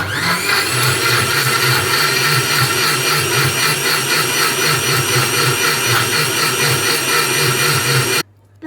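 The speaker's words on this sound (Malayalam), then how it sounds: "ഇനി നമുക്ക് ഈ ലിഡ് ക്ലോസ് ചെയ്ത് നമുക്ക് ഇത് മിക്സ് ചെയ്തെടുത്തിട്ട് കാണാം." A kitchen mixer blending a strawberry milkshake whirs loudly and steadily with a pulsing motor hum, running without a break before cutting off abruptly at the end.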